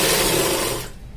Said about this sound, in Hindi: सिलाई लगानी है, सीधी सिलाई लगानी है।